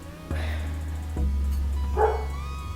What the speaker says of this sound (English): Sorry, she's really loud bark.